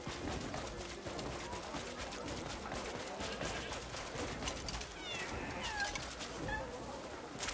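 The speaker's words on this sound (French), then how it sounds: "Il y a des chats partout." Cats meow several times amid a busy, dense ambience in the video game Crimson Desert, with bird calls and scattered sharp pops mixed into the steady background.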